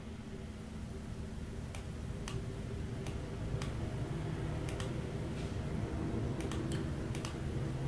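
Computer mouse clicks while building logic in Logic Designer software: sparse, sharp ticks come in small irregular clusters, some paired like double clicks, over a steady hum with no talk.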